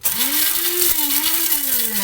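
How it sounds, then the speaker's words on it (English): A small electric coffee grinder whirs loudly and continuously, its motor pitch wavering slightly as the blades chop through herbs. "I just use my same coffee grinder"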